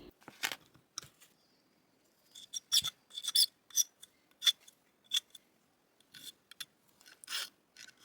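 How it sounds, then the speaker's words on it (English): A StewMac nut shaping file rounds the edges of a guitar nut on a Fender Player II Jazzmaster, giving a close run of short, bright rasping strokes. They come in uneven bursts with quiet gaps between them. "I take my nut shaping file from StewMac and begin to round off the sharp edges."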